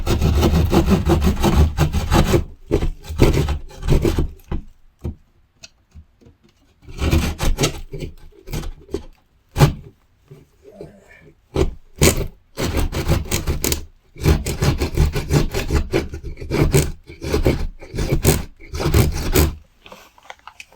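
Walls are being cut out down to the studs during a home renovation: loud, close bursts of rough sawing and scraping in repeated stretches, separated by brief pauses and a few sharp knocks.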